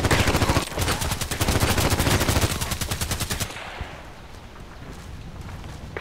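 Video game gunfire in Contract Wars comes as a rapid, loud burst of automatic shots, cutting off abruptly after about three seconds and leaving a fading, noisy tail.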